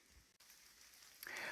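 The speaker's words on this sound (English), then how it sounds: "it is raining." Light summer rain falling on leaves outdoors by a river, a soft faint pattering that swells into a louder, denser hiss toward the end.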